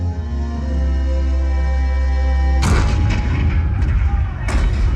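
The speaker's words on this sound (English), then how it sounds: "the cannon spoke for war" Cannon fire staged as a show effect for the 1861 Civil War opening at Fort Sumter: a sustained musical tone cuts off into a loud, close boom, and a second heavy blast lands near the end.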